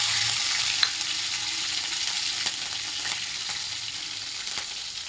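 Green chillies hit hot oil with fried garlic, giving a loud, dense, continuous sizzle that holds steady throughout with a couple of faint ticks; no speech.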